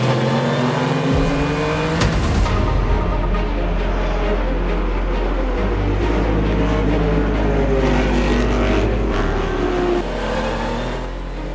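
Race cars at the start of the HSR Classic 12 Hour endurance race at Sebring roar steadily, engines revving and accelerating loudly from near to a sustained dense drone, with a sharp burst early on.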